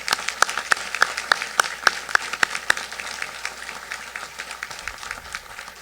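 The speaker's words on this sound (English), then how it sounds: "Let's give them a round of applause." An audience claps for medal recipients at a St. Francis College Charter Day ceremony, sparse and distinct claps at first that thicken into a steady, moderately loud round of applause in a hall.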